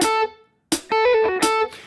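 Short electric guitar lick in quick sixteenth-note triplets starting just after the beat, two clustered note bursts separated by a brief gap, bright and close with a light effect on the tone.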